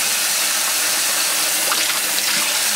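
Tap water runs steadily into a sink as garden salad vegetables are rinsed beneath it, a constant close gushing hiss with faint splashes as the produce shifts under the stream.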